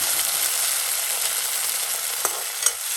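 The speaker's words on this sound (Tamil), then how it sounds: "இதையும் நல்லா வதக்கிக்கோங்க." Tomatoes sauté in a pan with a steady, fairly loud sizzle that holds throughout. Two brief stirring scrapes come near the end.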